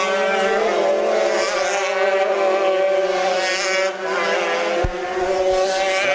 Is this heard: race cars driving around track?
yes